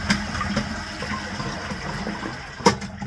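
Water drains from a Geberit wall-hung toilet cistern: a steady, close rushing and gurgling of emptying water, with a brief knock partway through, and no talking.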